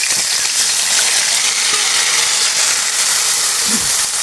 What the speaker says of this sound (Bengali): আমার তেলটা গরম হয়ে গেছে, এখন আমি জিরে দিয়ে দেব।